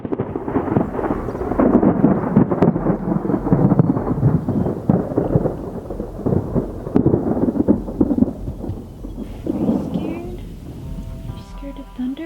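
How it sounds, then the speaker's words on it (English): Thunder rolls through a heavy monsoon storm at an off-grid home, a loud, sustained rumble mixed with rain noise that eases off near the end, with some faint background sound. "Scared of thunder?"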